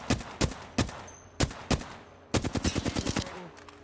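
Video game gunfire in a ranked online shooter match, a few spaced single shots followed by a rapid burst of automatic fire, loud and close with no talking.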